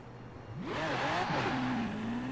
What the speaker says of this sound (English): If you don't have the car, just use this one, the Mosler. Also extreme fast acceleration.